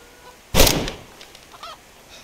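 A chicken in the survival video game DayZ gives one loud, close honking squawk, followed by a few fainter clucks and rustles, with no talk over it.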